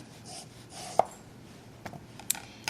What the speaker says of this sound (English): Now, as for the cucumber, I'm going to shave this down fairly thinly.